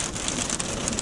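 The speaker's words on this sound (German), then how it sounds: "Es regnet noch ein bisschen zu doll." Heavy rain pours down steadily in a dense, even hiss with scattered drop patter throughout, no voices present.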